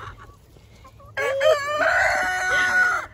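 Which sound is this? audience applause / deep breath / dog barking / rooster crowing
rooster crowing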